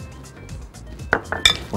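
Chicken pieces tossed with spices in a pan, a handful of light clinks and scrapes of utensil on cookware, close and fairly quiet, with a brief voice underneath.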